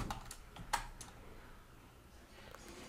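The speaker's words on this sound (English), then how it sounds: "if I type the command here" A burst of typing on a computer keyboard enters a command, several quick close key clicks in a short run followed by quieter scattered taps.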